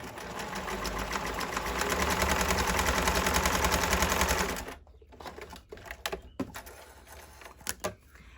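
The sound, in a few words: sewing machine sewing a basting stitch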